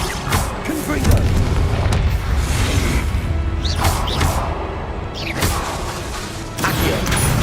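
Confringo explosive spell in the video game Hogwarts Legacy, loud booming blasts and crashes repeating over a dense, busy game soundscape, with a voice calling out spells.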